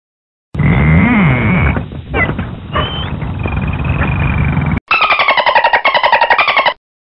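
Dolphin sounds: whistles and squeaks over a rough, buzzing texture, followed by a rapid burst of clicking chatter, close and loud.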